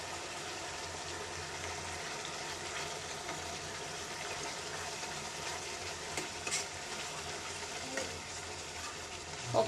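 Chili, coriander, garam masala, chicken masala and turmeric powders fry in a pan of brinjal (eggplant) gravy, giving a soft, steady sizzle with faint bubbling, quiet and unbroken throughout.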